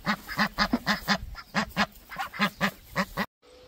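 Yard ducks quacking outdoors, a rapid run of about a dozen loud, close nasal quacks in uneven bursts, ending abruptly in near silence.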